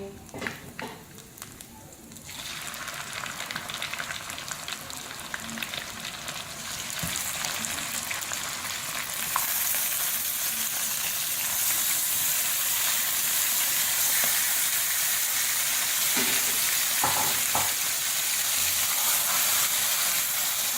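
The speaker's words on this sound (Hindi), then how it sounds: "चिकन लहसुन अदरक के पेस्ट में इसको मैंने अच्छी तरह फ्राई किया है 2 मिनट से तेज आंच पे" Loud, steady sizzling and hissing of chicken frying in garlic ginger paste in a hot pan over high heat, building up after a few seconds and continuing without a break.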